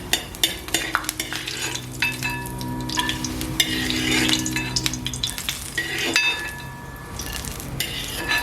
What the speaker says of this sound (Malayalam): ഇത് കശുവണ്ടി വറുത്ത് കോരാം.